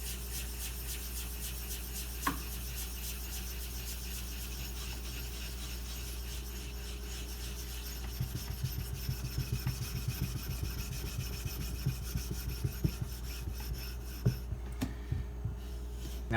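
A knife is sharpened on a Nubatama Bamboo 5000 grit whetstone, with faint rhythmic scraping strokes entering about halfway through beneath a steady low hum.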